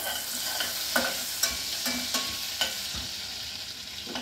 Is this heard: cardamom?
yes